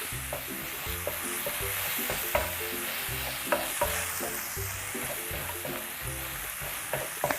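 Finely chopped red chillies and garlic stir-fry in a pan, giving a steady close sizzle with a repeated rhythmic scraping and tapping of the spatula and occasional sharper knocks, and no voices.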